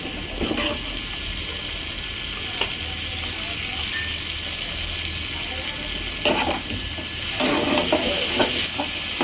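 Tomatoes drop into a spice paste already frying in the pan, bringing a steady loud sizzle with occasional scrapes and clinks of stirring throughout.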